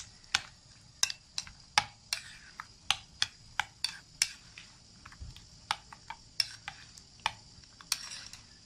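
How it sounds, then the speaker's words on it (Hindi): A spoon mixes ground fresh coriander and green chili into raita, making a steady run of sharp, light clinks and taps against the bowl, close and fairly quiet, with no talking. "अब इसमें ये हम सब्ज़ धनिया और ग्रीन चिली जो हमने ग्राइंडर में करके रखी थी वो डाल के अच्छे से मिक्स कर लेंगे इनको।"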